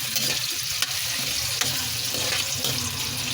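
Chicken pieces fry in a pan of oil for a chicken curry, giving a steady, close crackling sizzle with a few sharp pops, heard on its own without talk.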